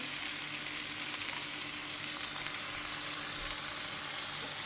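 Green masala paste sizzles hard in a hot pan, cooking a Goan dish alongside pomfret; a steady, close, loud frying hiss runs unbroken throughout with no voices.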